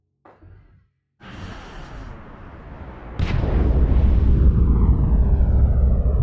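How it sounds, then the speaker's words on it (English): Spacecraft thrusters ignite in the Lone Echo VR game: a brief faint burst, a pause, then a loud roaring rumble that surges stronger and keeps rising, heard on its own without talk. "Preparing for thruster ignition."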